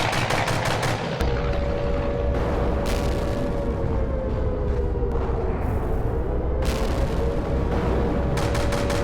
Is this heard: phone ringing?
no